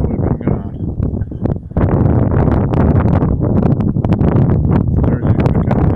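Gusty wind buffets the microphone outdoors in Minnesota a few days after a snowstorm, loud and ragged rumbling with a brief lull, while someone speaks over it.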